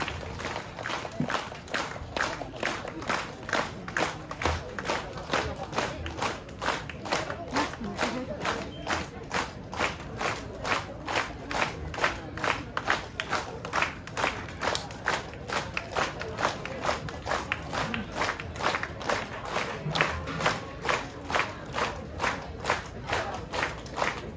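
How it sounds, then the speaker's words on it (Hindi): An audience at a silver jubilee celebration in Arunachal Pradesh claps loudly and steadily in a fast, even rhythm for the whole stretch, with faint crowd voices mixed underneath. "जोरदार से ताली बजाते रहिए।"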